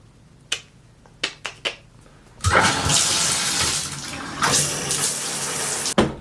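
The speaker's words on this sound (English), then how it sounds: "So I'm gonna take a shower." A shower is turned on in a bathroom: a few sharp clicks and knocks, then a steady, close rush of running water until a final knock.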